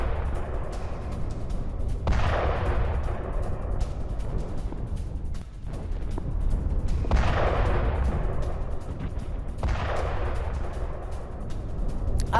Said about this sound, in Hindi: आर्टिलरी अटैक के अलावा मिसाइल हमले जारी हैं।